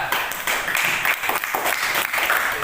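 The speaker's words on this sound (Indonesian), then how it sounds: "Tepuk tangan ke kelompok 3" A classroom of students applauds a presenting group, a brief burst of dense, lively hand clapping that holds steady throughout.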